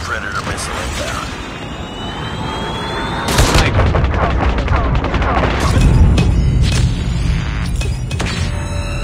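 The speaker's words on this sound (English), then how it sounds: "Friendly predator missile inbound." A predator missile strike in Call of Duty: Mobile lands as a sudden loud boom, followed by a sustained rumbling roar and scattered gunfire, with in-game voice callouts.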